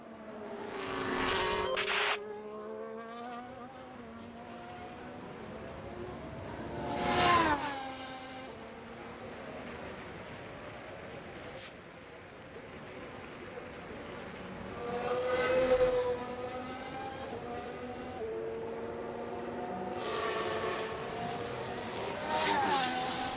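Formula 1 race cars leave the pit lane in the F1 Manager 2013 racing game, with engine whines rising and fading as they pass at mid distance. Several cars go by in turn over a steady background hum.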